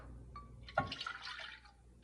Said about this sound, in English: I'm going to start off on the stove with a small saucepan, and I'm going to pour in the 1 cup of milk.